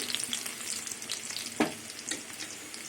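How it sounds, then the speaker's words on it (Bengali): Chopped garlic frying in hot oil in a pan, giving a steady close sizzle with a brief louder stir or clatter near the middle; no voices. "রসুনটা ভাজা হবে, পুরো লাল করে ভাজবো না"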